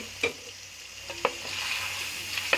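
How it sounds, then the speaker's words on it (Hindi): Beef frying in a pan for a quick karahi, a continuous hiss of sizzling oil with a few sharp scrapes of a spoon against the metal, close and without voices. "1-2 मिनट तक इसको अच्छा सा फ्राई करूँगी।"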